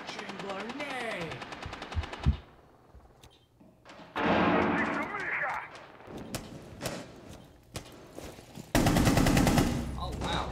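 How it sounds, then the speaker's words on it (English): Gunfire and a grenade blast in the video game Rainbow Six Siege: bursts of automatic fire, sharp single shots, then a loud sustained roar of explosion and more heavy firing, with a voice heard briefly at the start. "Dispatching grenade!"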